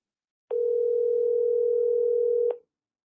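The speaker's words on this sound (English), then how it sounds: "Nobody's answering the phone." A telephone call rings out unanswered as a single steady, sustained tone lasting about two seconds, clear and alone with no voices.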